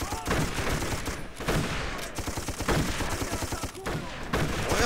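Repeated shotgun blasts and other gunfire in a first-person shooter video game, dense and loud bursts in quick succession over a busy battle background, with a voice talking underneath.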